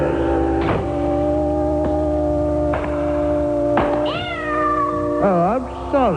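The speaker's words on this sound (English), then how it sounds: "I stepped on my cat's tail." A cat with its tail stepped on yowls loudly and close up in long wavering cries that rise and bend, several drawn-out caterwauls in a row with no talk over them.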